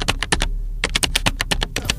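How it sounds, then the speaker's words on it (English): A receptionist types on a computer keyboard from a business sound-effect collection, a close, crisp burst of rapid key taps with a brief pause partway through and no voices. "Typing,"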